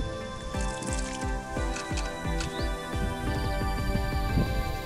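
Fishing groundbait is stirred by hand with sweet molasses and a little water, giving repeated close wet squelches and sticky squishing in an uneven rhythm.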